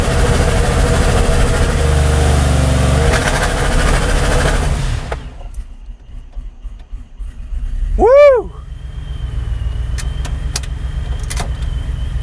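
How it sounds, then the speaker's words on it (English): A Chevrolet Silverado held on its trans brake runs a loud, rough idle, then drops away, followed by a brief rising and falling rev and a steady engine rumble afterward. "So we're going to start giving it RPMs."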